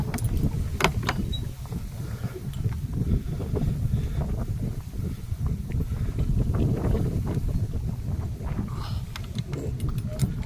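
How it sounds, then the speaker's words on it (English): Steady outdoor wind buffets the microphone on a lakeshore fishing outing, a continuous low rumble with light clicks and rattles of gear on top, no talking. "it's gonna be a little bit more windy now again"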